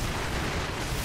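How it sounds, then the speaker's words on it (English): Firecracker burst in Sekiro: Shadows Die Twice, heard as a dense, noisy crackling blast that fills the whole short moment at steady loudness, with no voice. "Let's get the firecracker going."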